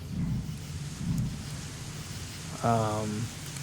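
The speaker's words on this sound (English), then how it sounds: "All right, so it's raining now." Rain in a cozy strategy video game, a steady soft hiss of falling rain throughout, with a few brief low rumbles and a short tonal game sound near the end.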